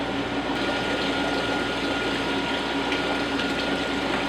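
A 150-gallon aquarium refills with water, a loud, steady rush of pumped water pouring into the tank, continuous and close with no talking.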